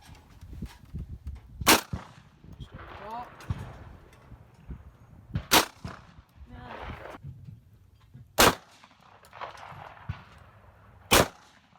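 Shotgun blasts at clay targets ring out outdoors, four loud sharp reports spaced a few seconds apart, with people talking and cheering between shots.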